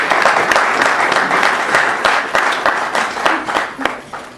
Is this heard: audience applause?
yes